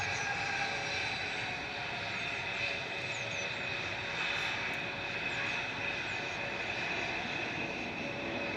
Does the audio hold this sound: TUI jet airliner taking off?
yes